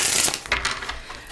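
Tarot cards are shuffled close up, a quick burst of crisp riffling and clicking flicks lasting only a moment.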